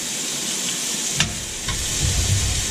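Peppers and other fried rice vegetables sizzle in a cast iron skillet with a steady hiss, broken by a couple of short clinks and scraping stir sounds.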